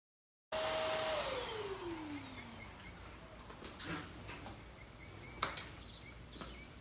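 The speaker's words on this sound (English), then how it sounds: "I'm gonna go ahead and vacuum the back" A cordless vacuum cleaner switches on abruptly and whines steadily while cleaning the back of a car, its motor pitch sliding down after start-up, with occasional clicks and knocks from the nozzle.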